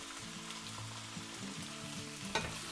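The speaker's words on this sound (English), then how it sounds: "I'm going to put a bit of olive oil in. My mince. And my onions." Mince and onions fry in olive oil, a soft, steady sizzle heard close by with a faint low hum beneath and one brief clink of a utensil near the end.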